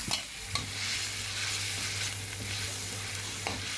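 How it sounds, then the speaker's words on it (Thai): Pork slices stir-frying with chili and garlic in a hot pan, a steady bright sizzle with occasional scrapes and clacks of the spatula as the meat is tossed, close and without talk. "ตามด้วยหมูชิ้นลงไปนะครับ ผัดให้สุกนะครับ"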